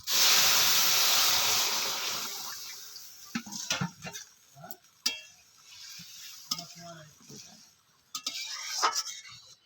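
Vegetables hitting hot oil in a pan for a Bengali tangra fish curry with bitter gourd, a loud broad sizzle at first that fades, followed by scattered clinks and stirring scrapes close by.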